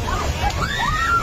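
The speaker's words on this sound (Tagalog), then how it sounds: "Sinuong ng bus na ito ang kalsadang nagmistulan ng ilog sa tindi ng bahang dala ng Bagyong Tino" A bus ploughs through deep floodwater on a road turned into a river by a typhoon in Binalbagan, Negros Occidental, with continuous sloshing and surging water, loud and close, under a reporter's voice.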